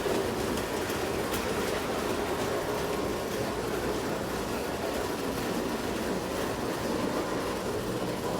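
Marx tinplate toy train running around a track loop, a steady metallic rolling rattle with fine clicking over the rails, continuous and close at an even level.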